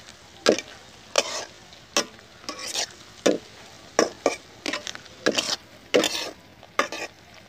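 Ground coriander, chili and turmeric stirred into hot oil in a pan for a wild dele (kair berry) recipe, with repeated short scraping stirs sounding every half second or so over a faint sizzle.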